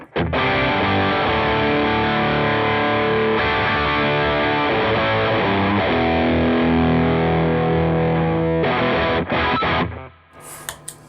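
Heavily overdriven electric guitar chords from a cheap Les Paul through a Wampler Pinnacle Deluxe v2 drive pedal and a Fender amp ring out loud and sustained, with a few shifts between chords, then choked off near the end.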